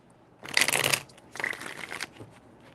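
Tarot cards riffle-shuffled in two quick bursts, a crisp loud flutter then a slightly softer second one, close up with no talking.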